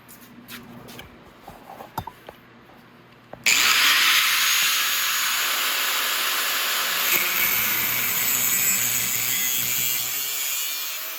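A grinder cuts a custom motorcycle exhaust pipe. A few sharp clicks and taps come first, then the tool starts abruptly into a loud, sustained high whine that runs steadily to the end.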